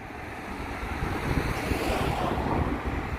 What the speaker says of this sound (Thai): ลมพัดเย็นๆ มาโดนดอกไม้